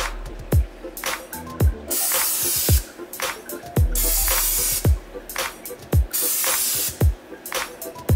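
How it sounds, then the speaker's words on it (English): Short hissing spurts of regular aerosol cooking spray onto a pan come close and loud in a quick series of about eight bursts, each with a soft thump. "let's see how regular cooking spray sprays on one side of the pan"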